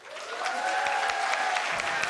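Audience applause fills the room, a dense, steady wash of clapping that swells in and holds at full strength, with no talk over it.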